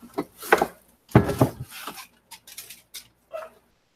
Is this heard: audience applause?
no